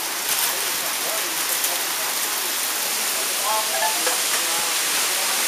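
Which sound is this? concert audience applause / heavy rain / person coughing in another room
heavy rain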